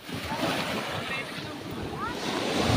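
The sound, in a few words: rough sea waves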